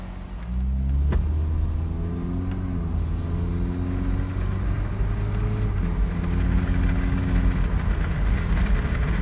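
A Saab 9-3 2.0T Sportcombi with new spark plugs drives along. Its engine hums and rumbles steadily from inside the cabin, rising slightly in pitch as it pulls away, with no one speaking.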